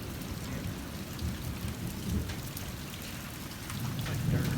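Heavy rain pours steadily on surfaces outdoors during a hail and thunderstorm, with low rumbling thunder rolling underneath and swelling louder toward the end; no voices.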